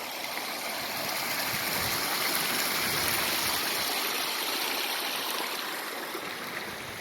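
Mountain creek rushing steadily over rocks at a trail crossing on the climb to Wetterhorn Peak, a close, loud and continuous wash of flowing water with no voices.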